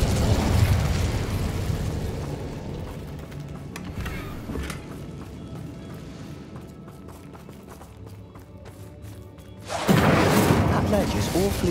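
An Incendio fire spell in Hogwarts Legacy on PC bursts in a roaring, crackling whoosh that fades over several seconds, then a second loud burst follows, with game voices heard through it.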